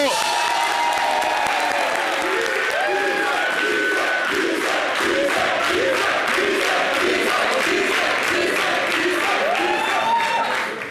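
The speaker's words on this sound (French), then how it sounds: "Jowin, merci de l'applaudir." A studio audience applauds steadily with dense clapping and scattered cheers and whoops throughout a Guinean television show, the crowd sound filling the room.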